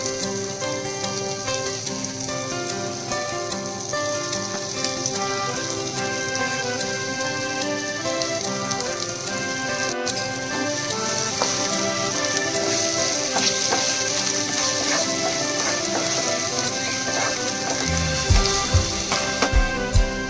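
Chopped onion frying in a pan for a masala, a dense continuous sizzle and crackle lasting throughout, close and steady with no talk.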